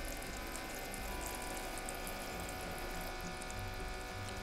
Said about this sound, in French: on va vider l'évier et on va relaver nos légumes une deuxième fois